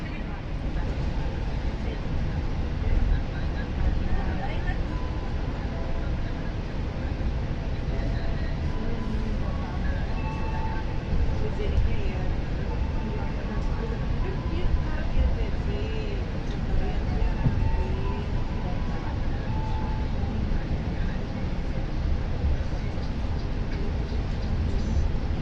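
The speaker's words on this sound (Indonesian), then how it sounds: "Kereta api Argo Wilis masuk stasiun Banjar" Steady, loud low rumble fills the cabin of the Argo Wilis passenger train as it rolls into Banjar station, a continuous droning roar with faint rattles and no clear breaks.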